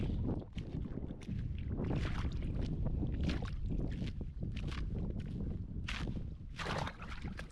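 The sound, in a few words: breaking thin ice while wading into frozen lake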